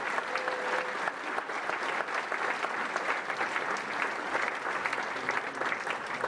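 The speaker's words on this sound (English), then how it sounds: "Let's give them a round of applause." A room full of people claps at an evening event, a thick, even wash of applause that holds steady without talk from start to finish.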